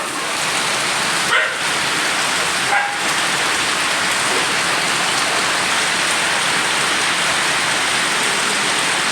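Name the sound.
heavy rain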